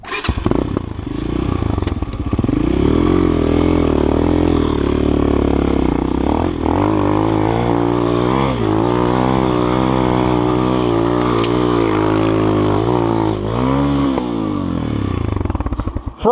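A GEON X-Road 250 PRO enduro motorcycle pulls steadily in second gear off-road, its engine droning loud and close with rising and falling revs over continuous rattling and scraping.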